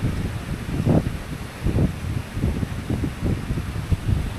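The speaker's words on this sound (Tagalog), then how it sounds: "Mas malakas pa yung hangin ngayon kaysa kanina." Strong gusts buffet a campsite by the sea at San Juan, Batangas, roaring in low rumbling surges with pulses about every second, loud and close against the microphone.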